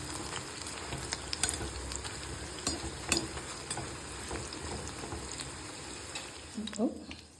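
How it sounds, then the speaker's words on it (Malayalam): Cauliflower frying in a pan and browning, giving a steady close sizzle and crackle with occasional scraping stirs throughout. "നമ്മളുടെ കോളിഫ്ലവറാണ് വെന്തുകൊണ്ടിരിക്കുന്നത്"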